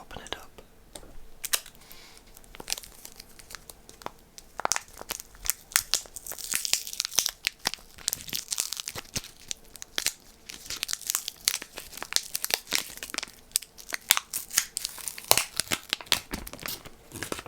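A Ritter Sport chocolate bar wrapper is opened up close in an ASMR setting, with crisp, irregular crinkling and tearing of the packaging in quick bursts, alongside soft whispering.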